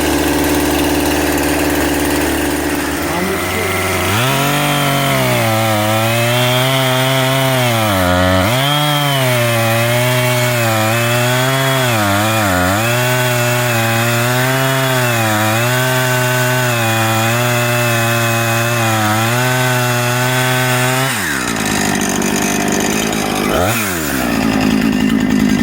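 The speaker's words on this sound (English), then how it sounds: "All right, so Tim's going to attempt his first plunge cut." A Husqvarna chainsaw runs loud and close while plunge cutting into a hemlock tree in the Adirondacks. The engine snarl rises and falls in pitch as the bar bogs into the wood for about twenty seconds, then drops back toward idle.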